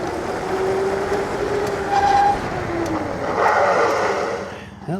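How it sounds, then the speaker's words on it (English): A Jasion Thunder Pro 52V dual-suspension e-bike brakes hard from speed, with brief squealing tones over steady wind and rolling noise that fades out near the end. "let's test out the brakes here"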